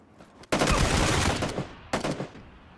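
Bursts of loud, rapid automatic gunfire in the video game PUBG Battlegrounds: a long sustained volley followed by a shorter burst, close and dominant.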